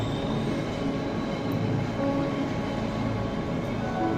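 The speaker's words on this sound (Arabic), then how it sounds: "ما القطار راهو جاي." A train approaches in the horror video game Cry of Fear, a steady dense rumble with rail rattle and faint squeal holding constant and loud throughout, no voices.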